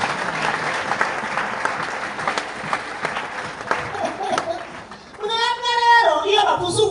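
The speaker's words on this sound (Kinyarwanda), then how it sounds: "Amashyi ku Mana yacu." A church congregation bursts into sustained applause, a dense clatter of many hands clapping for several seconds, then fading as voices rise and talk or sing over the remaining claps.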